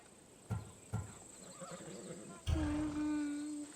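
Skiros horse from Assassin's Creed Odyssey: two hoof thumps, then a loud, close, drawn-out neigh that holds to the end.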